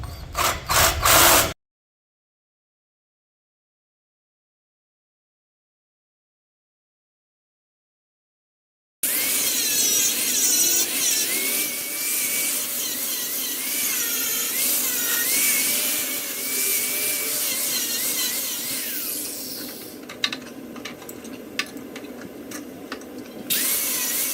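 A power tool cuts a part off the tongue of an aluminum boat trailer. A short burst comes first, then several seconds of silence, then a loud, continuous, whining grind with shifting pitch that runs to the end, with no talking.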